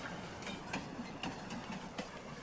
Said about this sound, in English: How's the train moving if the engine ain't running?